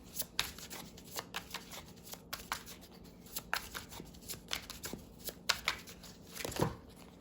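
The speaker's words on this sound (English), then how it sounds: "I'm going to pull one from the tarot for the main guidance, and then three for the situation" Tarot cards being shuffled by hand, a steady run of soft riffling and slapping bursts, close and fairly quiet, with no talking.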